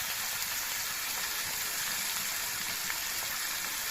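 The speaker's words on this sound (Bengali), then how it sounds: "মাংস আর পেঁয়াজটা আমি একসঙ্গে ভাজবো।" Meat and onion fry together in a pan with an even, continuous sizzle and crackle, steady and fairly faint throughout with no voices.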